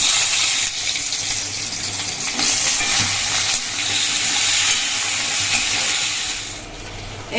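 Potatoes hit hot oil in a wok after black cumin seeds fry, giving a loud, steady sizzle with hissing broadband spatter and faint stirring scrapes throughout, no voices.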